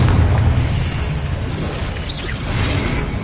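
A Confringo blasting spell goes off in Hogwarts Legacy, a loud, sustained rumbling boom with a whooshing burst that fills the whole moment, close and heavy, with no voices.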